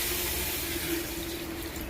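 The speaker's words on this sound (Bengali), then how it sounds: "আমি জল দিয়ে দিচ্ছি" Water pours into a cooking pot holding rice and lentils for khichuri, a steady close hiss that runs the whole time without pause and with no talking.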